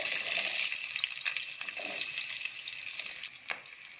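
Onions frying in hot mustard oil in a wok, a steady loud sizzle and crackle filling the space, with a brief sharper spatter near the end.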